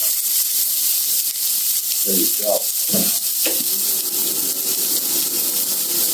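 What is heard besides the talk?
onions and garlic sizzling in a frying pan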